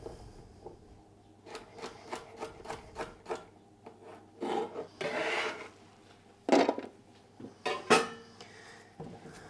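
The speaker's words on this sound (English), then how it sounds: "So I'm just cutting some slices." A knife slices vegetables for falafel on a cutting board, giving a series of short, close, fairly quiet cuts and scrapes in an uneven rhythm, with no talking.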